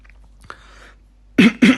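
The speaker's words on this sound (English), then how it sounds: "A couple of coughs." Two short, sharp coughs close to the microphone come after a faint throat sound in an otherwise quiet room.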